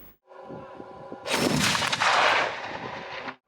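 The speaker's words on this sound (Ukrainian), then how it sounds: "Це перший постріл, який бійці Дніпровської бригади ТРО зробили з цієї трофейної БМП" A single heavy cannon shot from a captured infantry fighting vehicle bursts loudly after a mechanical rumble, its blast roaring and then decaying over about two seconds before cutting off, at a firing range.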